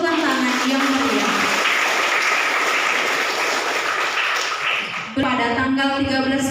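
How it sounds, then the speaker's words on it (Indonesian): Applause from the audience at a book review event at a community development college, a dense wash of clapping over a steady tone for about five seconds, then giving way to a voice. "dengan tepukan tangan yang meriah"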